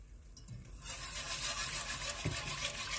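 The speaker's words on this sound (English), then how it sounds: "And we're going to start whisking that in like so." A whisk swirls whole milk into a flour and butter roux for homemade macaroni and cheese, giving a close, continuous wet sloshing and scraping that swells after the first second.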